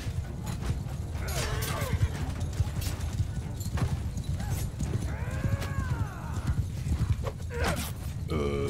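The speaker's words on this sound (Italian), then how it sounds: "ma quanto è veloce il mio cavallo?" A horse gallops in the Mount & Blade Bannerlord video game, with rapid, continuous hoofbeats over a busy battlefield din, broken by occasional whinnies and sharp clashing sounds.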